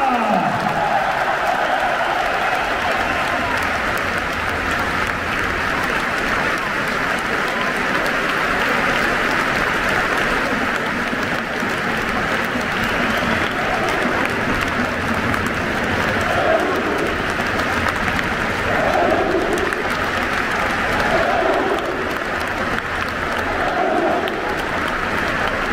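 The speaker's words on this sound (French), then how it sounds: "Allez, on applaudit fort pour les Vosgiennois." A large crowd applauds and roars continuously in a packed football stadium at the end of a match, a dense wash of clapping and cheering throughout.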